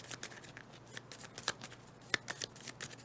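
Playing cards are shuffled into an obstacle deck during a tabletop board game, a close, soft series of riffling flicks and sharp card snaps coming in irregular bursts over quiet room tone.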